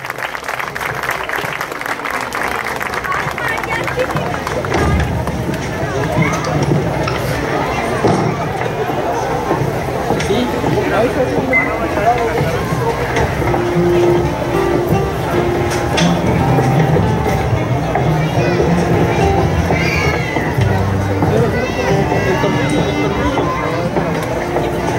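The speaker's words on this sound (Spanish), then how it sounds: "Vamos a recibirlos con un fuerte aplauso y a disfrutar en esta noche de este grupo" Audience applause welcoming a performing group at a cultural festival, a dense sustained clapping wash lasting throughout with crowd babble and voices mixed in.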